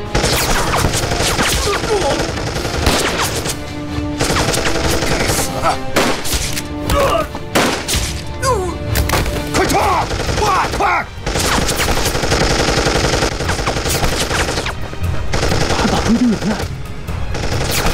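Gunfire from a war drama set during the anti-Japanese resistance, dense bursts of shots mixed with a loud, busy battle soundtrack that runs almost without pause, with voices breaking through now and then.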